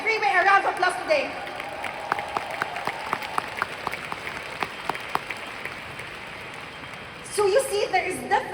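Applause from an audience rises and fades, with scattered clapping continuing under a speaking voice, then a burst of talk at the end.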